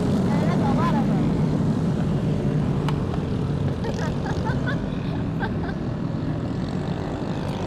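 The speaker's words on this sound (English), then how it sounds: "It's like 200 motorcycles driving by." A dense, continuous engine roar of about 200 motorcycles passing close by, with a person speaking over the traffic noise.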